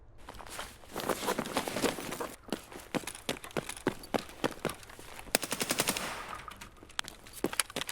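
Rapid automatic AKS-74U fire in Escape From Tarkov crackles in several bursts of sharp shots, mixed with footsteps and movement, fairly quiet overall.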